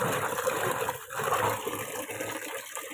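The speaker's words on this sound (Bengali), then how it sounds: "যেহেতু বর্ষাকালে এখন শাক টাকগুলো ভালো করেই ধুতে হয়।" Leafy greens are rinsed in water during the monsoon season, with a continuous close splashing and gushing of water throughout and no speech.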